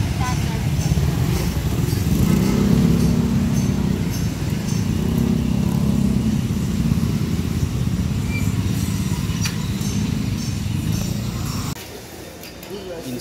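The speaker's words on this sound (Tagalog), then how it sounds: "Daming motor guys oh." Many motorcycles pass on a busy city street in Makati, their engines forming a continuous rumbling drone that drops off near the end, heard while walking among traffic, with some chatter in the background.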